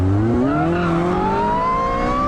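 An Ariel Atom with a supercharged Honda engine accelerates, its supercharger whine rising steadily in pitch over the engine's drone, loud and close as the car pulls through a gear.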